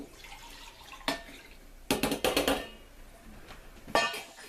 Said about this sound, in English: I can pour this in my measuring cup.